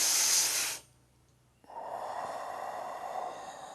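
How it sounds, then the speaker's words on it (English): A person doing qigong draws in a long breath through the nose, loud and airy for about a second. After a short silence, a steadier, softer rush of breath or air continues close to the mic. "When I'm breathing in."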